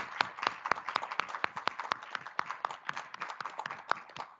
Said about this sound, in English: can we just give a round of applause to our new Senator